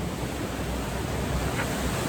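A creek runs alongside a rural road in northern Pennsylvania, giving a steady broadband wash of flowing water with a faint wind rumble, continuous and even throughout with no voices.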